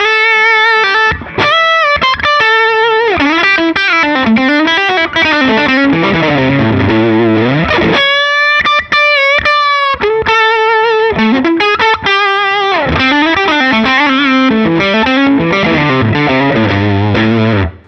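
A heavily compressed, squashed instrument tone plays a continuous melodic line with distortion, loud and even in level throughout, with a brief held chord midway and no talking.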